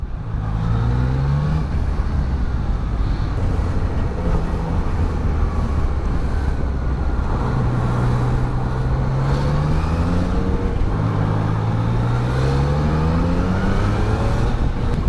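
A Yamaha Niken three-wheeled motorcycle weaves through city traffic, its engine note rising and falling with the throttle over a steady rush of wind on the microphone, loud and continuous throughout.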